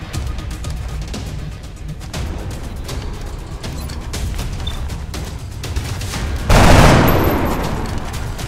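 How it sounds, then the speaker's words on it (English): Dense, sustained heavy gunfire rattles through a battle in the strategy game XCOM Long War, with rapid overlapping shots throughout and a louder burst or explosion swelling near the end. "There's heavy fire in this zone!"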